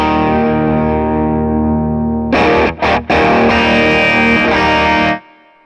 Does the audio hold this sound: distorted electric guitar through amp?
yes